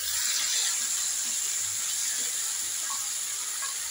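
Ginger paste fries in hot oil with a steady, close hiss and sizzle that stays even throughout, with no talking.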